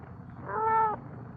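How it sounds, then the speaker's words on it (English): A cat gives a single drawn-out meow in the middle of a short stretch, clear and fairly close against a faint background hiss, with no talking. "Don't hurt the cat."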